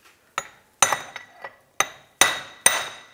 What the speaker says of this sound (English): Going to take a punch and a hammer and we're just going to give it a tap.